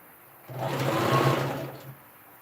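Sewing machine stitching dress fabric for a princess dart dress, a short burst of steady motor whir lasting about a second and a half, near and moderately loud, with no talk.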